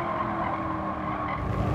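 Car in Gran Turismo 7 braking hard through a fast corner on a license test, with a continuous loud tire squeal over engine drone.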